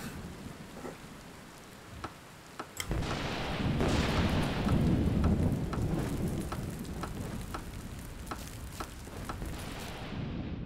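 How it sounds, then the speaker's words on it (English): Steady heavy rain pours down with scattered sharp crackles, and a deep rumble of thunder swells in and lingers beneath the downpour, from a storm in the video game Kainga: Seeds of Civilization. "Hopefully this storm doesn't last long."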